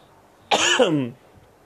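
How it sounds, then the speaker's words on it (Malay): A single drawn-out, voiced cough or throat-clearing from one person close by, lasting about half a second, with quiet before and after. "saya batuk sikit."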